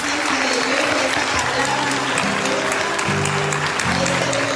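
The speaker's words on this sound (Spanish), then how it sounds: "Vamos a darle un fuerte aplauso a esa presencia de Dios" Loud, sustained applause from a church congregation during a worship service, dense clapping filling the whole stretch with a steady tone from an instrument or organ underneath.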